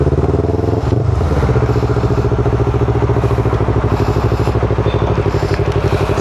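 A motorcycle runs steadily close by during beginner clutch-control practice, its engine holding a loud, even idle-level drone with a brief dip and clatter near the start.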